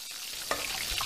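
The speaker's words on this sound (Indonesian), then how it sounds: "Apa yang kau goreng tu? Telur ikan." Fish roe frying in a pan in an animated kitchen scene, a steady close hiss and sizzle with a few soft stirring clicks throughout, no talking.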